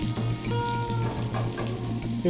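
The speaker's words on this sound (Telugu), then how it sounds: "ఇలా కొంచెం పెద్ద సైజులో కట్ చేసుకున్న ఉల్లిపాయలు కూడా వేసుకొని కుక్ చేసుకుంటున్నాం" Large-cut onions fry in a hot pan for chilli chicken, a close, steady sizzle with faint stirring clatter, no voices over it.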